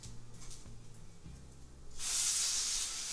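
A grilled cheese sandwich hits the hot pan after flipping and bursts into a loud, steady sizzle that continues to the end, following a quiet stretch of faint low hum.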